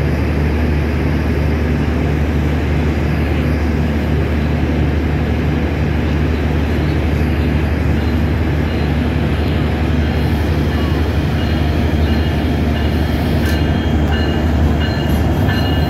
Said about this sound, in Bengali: লালমনিরহাট থেকে ছেড়ে আসা ঢাকা অভিমুখী লালমনি এক্সপ্রেস